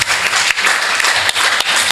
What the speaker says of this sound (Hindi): डॉक्टर विनोद बाबूकर जी को ढेर सारी ज़ोरदार तालियां होनी चाहिए